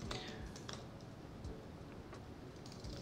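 Rapid, irregular clicks of fingers typing on a computer keyboard while filling in a form, close and fairly quiet over a low background hum.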